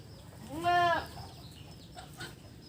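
A goat on a livestock farm gives one loud, drawn-out bleat near the start, and a fainter, shorter call follows about a second later over quiet background noise.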